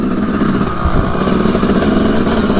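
A dirt bike in the woods revs hard at high RPM, a loud, steady buzzing engine drone held close and continuous throughout.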